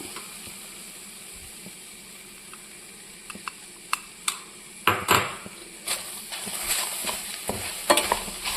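Coconut masala being stirred into cooked chickpeas in a pan for a Mangalorean chickpea dish: a quiet opening gives way to repeated scraping and clinking spoon strokes against the pan over a soft sizzle, with no talking.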